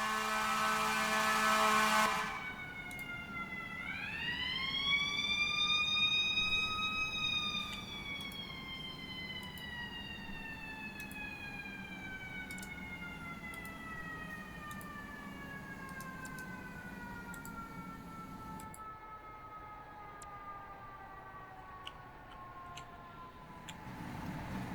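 A long wailing siren rises and slowly falls in pitch, fairly loud, over a steady engine rumble; no talking.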